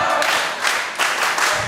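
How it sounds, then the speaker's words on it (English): A wrestling event crowd cheers and applauds in a sustained, dense roar with rhythmic swells, loud and fairly close, no talk over it. "He's getting cheered."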